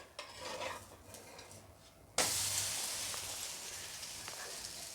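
Moong dal chilla fries in oil in a pan with a sudden loud sizzle when the batter side hits the oil, then a steady, close hiss that slowly eases. Earlier, quiet scraping and kitchen clatter come before it.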